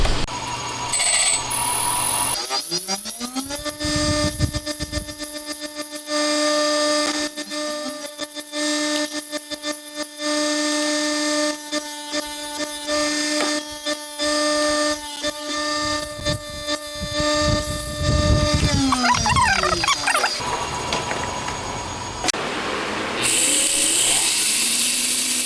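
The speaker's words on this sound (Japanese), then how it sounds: "いらないところを削ってきれいにしていきますね。" A high-pitched power tool grinds away excess metal after brazing on a 125cc twin-cam 16-valve four-cylinder engine, valve seat work; a steady whining tone runs for about twenty seconds with rising and falling pitch, close and loud.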